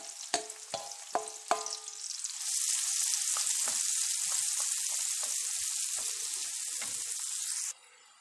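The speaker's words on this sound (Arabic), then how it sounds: "في نفس الطاسة اللي قليت فيها الكفتي في الزيت جبت عندي بصلة كبيرة مقطعاها" A large chopped onion drops into hot oil in a pan already used for frying kofta, giving a few clatters and stirs, then a steady loud sizzle that cuts off abruptly near the end.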